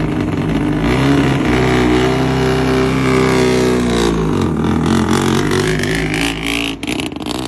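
A rich-ported, dowelled and studded rotary 13B engine swapped into a Ferrari, a loud, buzzy engine note that drones steadily, dips near the middle and then rises again as it revs.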